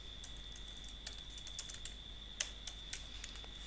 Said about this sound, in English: So I'm going to type Smart Slider 3.